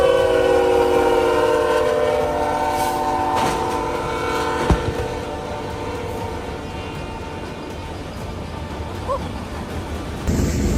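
A train fitted with a snowplow rolls past, a steady loud rumble of wheels and carriages with sustained horn-like tones and a few sharp clanks, continuous throughout.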